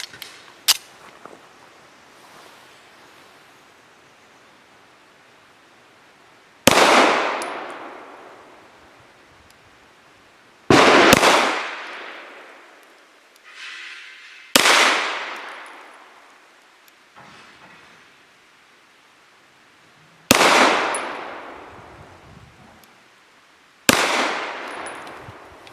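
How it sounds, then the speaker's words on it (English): Tisas Regent BR9 9mm pistol firing Nosler 115 grain match rounds from 7 yards: five sharp, loud shots spaced several seconds apart, each ringing out with a decaying echo, with faint handling noise before the first. "Now for 5 shots from 7 yards using Nosler 115 grain match."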